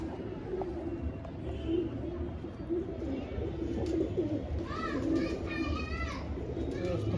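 Pigeons coo repeatedly in a breeding loft, soft rolling calls recurring throughout over a steady background hum, with a few higher bird notes toward the end and someone talking in the background.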